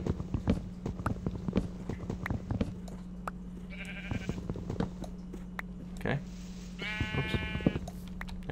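Sheep bleating in a Minecraft world, a few short bleats rising over frequent clopping footstep sounds and a steady low hum, with someone talking intermittently.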